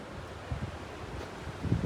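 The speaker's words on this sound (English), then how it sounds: "there's a lot of wind right now" Wind buffets the microphone aboard a boat cruising among the Stockholm archipelago islands, a steady low roar with a couple of stronger gusts, no talking.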